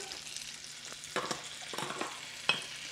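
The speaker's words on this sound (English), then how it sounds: "Now we're going to add in our asparagus, a little bit of our salt and pepper, the balsamic vinegar" Asparagus sizzles in a hot pan with salt, pepper and balsamic vinegar, with a few sharp clatters of stirring and scraping over a soft, steady frying hiss.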